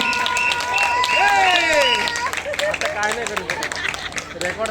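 Spectators at a local cricket league match clap in a scattered burst beneath loud, lively voices and crowd chatter, the applause continuing in uneven patters throughout.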